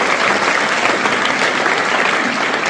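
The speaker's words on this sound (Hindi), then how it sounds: "जोरदार तालियां।" Loud, dense applause from an audience at a school prize distribution ceremony, celebrating BZ Urdu High School and Junior College winning a trophy; steady clapping fills the whole stretch without pause.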